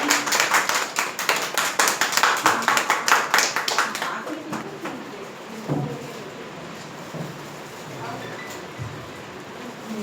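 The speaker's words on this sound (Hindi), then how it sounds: "ये भाई सबको ताली बजाइए।" An audience at a journalists' award ceremony claps in a quick burst that fades after a few seconds, followed by quieter room noise and scattered sounds.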